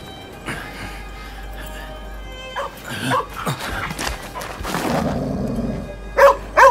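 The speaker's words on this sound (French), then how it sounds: "Bon chien, bon chien." Dog barking in the video game Rise of the Ronin, a few scattered barks and yelps over a low ambient hum, growing busier toward the end with sharp loud bursts.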